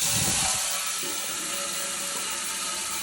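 Well water pump switched on and running, giving a loud, steady rushing hiss of flowing water that starts strong and eases slightly, with no voices over it.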